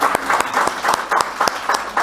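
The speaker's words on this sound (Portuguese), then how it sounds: "palmas para a Arielle, que arrasou" Audience applause for a presenter in a criminal procedure law class, steady clapping with regular sharp peaks, moderately loud and close, filling the short stretch without speech.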